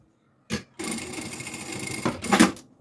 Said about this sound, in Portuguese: vamos passar aqui uma costura para segurar o elástico